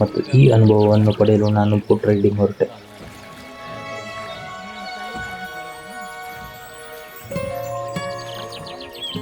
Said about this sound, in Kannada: ದೂರದಲ್ಲಿ ಕೇಳಿಸುವ ಹಕ್ಕಿಗಳ ಚಿಲಿಪಿಲಿ ಶಬ್ದ